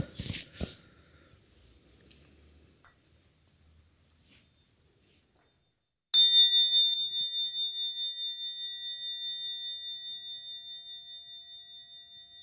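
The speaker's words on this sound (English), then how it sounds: "would you mind if I just kick us off with a bell?" A meditation bell is struck once, ringing out clear and sustained with a long, slowly fading shimmer in a quiet room, after a few faint handling noises.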